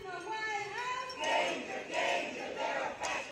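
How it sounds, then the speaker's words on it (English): Crowd of protesters on a Washington, D.C. street, chanting slogans in rhythmic swells, heard from a moderate distance. "hundreds of protesters hit the streets in Washington, D.C., chanting slogans and holding signboards"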